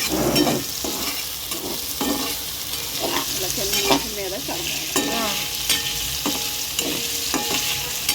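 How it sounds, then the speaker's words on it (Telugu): Potatoes frying on a low flame in an iron dosa pan, a continuous close sizzle with regular stirring and spatula scraping throughout, no voices. "మనమైతే లో ఫ్లేమ్లో పెట్టుకొని ఫ్రై చేసుకుంటూ ఉండాలి"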